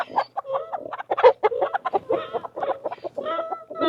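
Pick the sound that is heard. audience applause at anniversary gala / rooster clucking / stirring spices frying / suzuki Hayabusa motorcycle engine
rooster clucking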